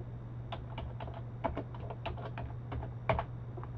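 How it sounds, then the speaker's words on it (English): Keys on a computer keyboard clack in irregular bursts as a command is typed at a network switch console, close and fairly quiet over a steady low electrical hum. "let's locate the snapDmp files that are hidden by typing the command dir space capital DMP"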